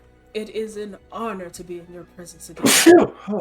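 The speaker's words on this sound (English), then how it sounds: "And then you sneezed in his face." A person talks briefly, then lets out one sudden, loud, close sneeze, a sharp burst right after the speech, followed by a short trailing breath.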